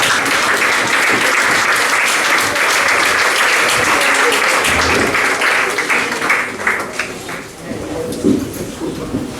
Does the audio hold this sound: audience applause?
yes